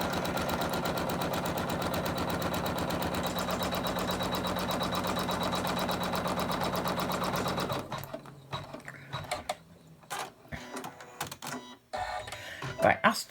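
A Janome embroidery machine stitches a square onto a double layer of wash-away stabiliser, its needle hammering in a fast, steady mechanical rhythm for several seconds before stopping, followed by scattered clicks and handling noises.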